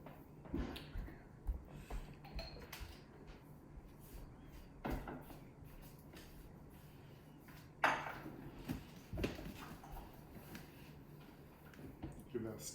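Spoon stirring a sourdough starter mixture in a bowl, soft intermittent scrapes and clinks against the bowl, close and quiet, with a voice talking over it.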